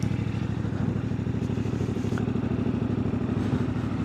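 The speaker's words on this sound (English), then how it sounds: "So we did some tests with Rick on the bike, with me on the bike, and now with the helmet" CFMoto 450MT motorcycle fitted with an ISOTTA rally windscreen, riding with a steady, close engine drone and a throbbing pulse that holds even throughout, heard alone without talk.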